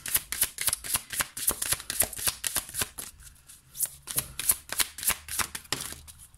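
A deck of oracle cards is shuffled by hand before a card draw, giving a rapid series of crisp flicking and slapping riffles, close and steady.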